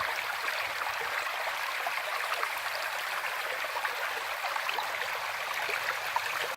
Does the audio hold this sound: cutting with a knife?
no